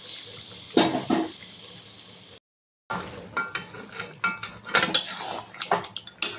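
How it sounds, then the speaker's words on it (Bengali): Chicken meat being stirred in a pot for a thin country-chicken curry, with spoon scrapes and clinks against the metal that come in irregular bursts, broken by a brief silent gap. "এবার এইভাবে আমি শুধু মিডিয়াম গ্যাসটা রেখে এইভাবে ক্রমশ নাড়তে থাকি"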